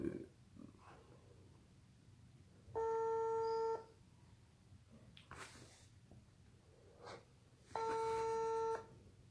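A telephone call being dialed, with two long steady ringback tones separated by a pause and faint background noise between them, no voices.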